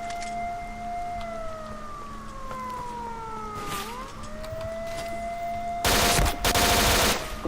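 Gunfire in the game STALKER Shadow of Chernobyl (Oblivion Lost), a loud burst of rapid shots near the end, after a long wailing tone that slides down in pitch and rises again.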